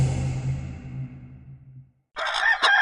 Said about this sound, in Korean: 캐럴턴에 닭이 날아다니네